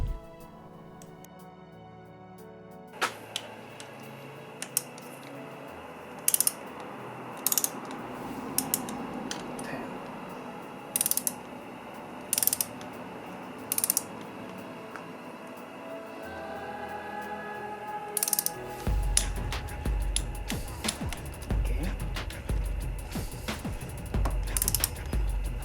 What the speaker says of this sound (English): And now for tightening the screws, I will use a torque wrench.